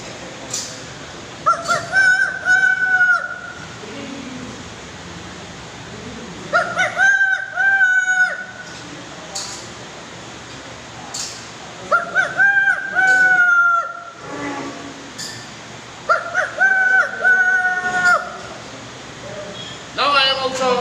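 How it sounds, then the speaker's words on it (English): A rooster crows in the countryside four times, each call loud and near with a strained, stretched-out finish, separated by pauses filled with quieter clucking and background noise. "many people wake up after listening the sound of cock crow"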